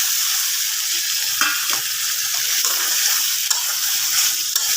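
Chopped potatoes stir-fried in a pan, a loud continuous sizzle broken by scattered scraping strokes of a spoon against the pan, no talking.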